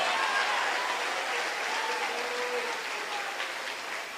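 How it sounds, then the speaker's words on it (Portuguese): Congregation applause during a Sunday worship service, a broad, steady patter of many hands that fades slightly toward the end, with faint voices mixed in. "Aplauda Jesus de Nazaré."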